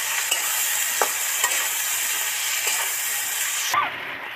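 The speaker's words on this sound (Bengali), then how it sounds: "এবার নেড়ে চেড়ে মিশিয়ে দেব।" Potato and cauliflower curry with spice paste sizzles in a pan while it is stirred, with a steady frying hiss and soft spoon scrapes that cut off abruptly near the end.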